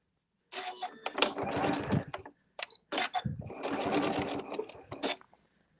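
A sewing machine stitches a quilted placemat in two continuous runs of rapid needle chatter, broken by a short pause and a few clicks, loud and close with no talking.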